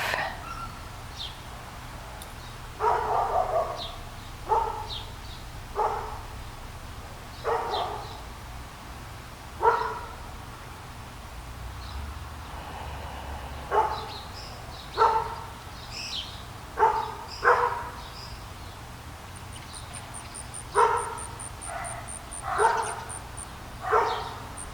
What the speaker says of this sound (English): it seems like all the dogs in the neighborhood are getting into this bark.